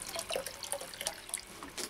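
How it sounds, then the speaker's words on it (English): Warm RO water is poured from a kettle into a bucket for watering orchids, giving a close, irregular splashing and trickling with small bursts and drips throughout, heard alone. "I'll just warm it up with some RO water from the kettle I've just warmed up"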